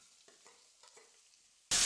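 Chopped large onion goes into a pan of frying rava snack base, with a few soft stirring scrapes and faint sizzle before a sudden loud burst of sizzling at the end.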